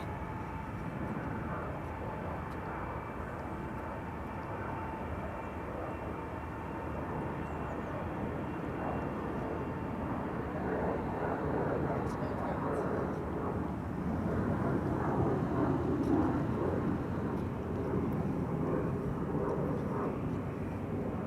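An Embraer Phenom 300 business jet takes off from Amsterdam Schiphol, bound for Ibiza, a faint, distant engine rumble that swells gently in the second half, with a voice talking over it.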